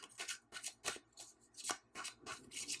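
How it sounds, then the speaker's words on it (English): A tarot deck is shuffled in quick rhythmic bursts, about eight soft rasping card slides in a row, close and fairly quiet. "Let's give this a quick shuffle. You can see that I'm shuffling."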